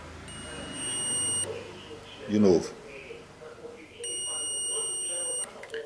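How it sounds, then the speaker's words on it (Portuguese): A steady high-pitched multimeter continuity beep sounds twice, each held for over a second, with a person speaking briefly between the tones, while wiring a motorcycle cut-off switch. "esse aqui, felizmente, é aquele multímetro que dá o bip"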